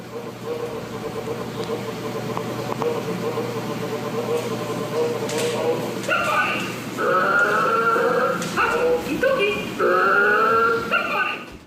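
A growling, snarling sound attributed to a toy in a toy box, a rough continuous rumble with whimpering, yelping tones rising in the second half, steady and fairly loud with no clear speech.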